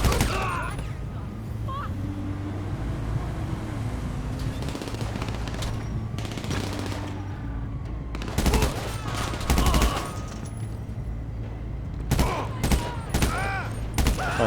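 SMG gunfire in the online game GTA Online crackles in repeated rapid bursts, some dense and loud, over a continuous game soundscape.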